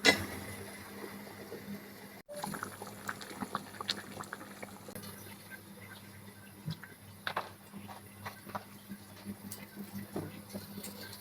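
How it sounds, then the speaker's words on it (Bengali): Masoor lentils with vegetables boiling in a pot, a quiet steady bubbling with soft pops and faint liquid gurgles close by. "এটা এখন একটু সিদ্ধ হবে।"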